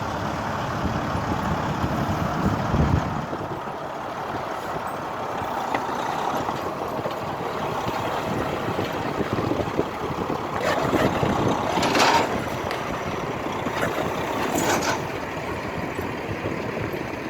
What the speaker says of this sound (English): This bypass was driven over by a truck, which is the world. Chains on the tires, you see driving over that pipe.